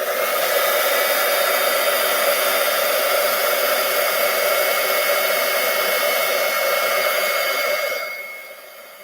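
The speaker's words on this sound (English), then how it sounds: "we're going to heat it up with our heat tool" Heat tool blowing hot air to melt silver embossing powder on a handmade card, a steady, loud, even whoosh lasting several seconds before cutting off near the end.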